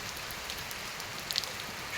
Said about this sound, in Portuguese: Chuvazinha boa.